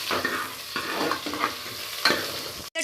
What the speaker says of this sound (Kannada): ಈಗ ಈರುಳ್ಳಿ ಚೆನ್ನಾಗಿ ಇದನ್ನ ಫ್ರೈ ಮಾಡ್ಕೊಳ್ಳೋಣ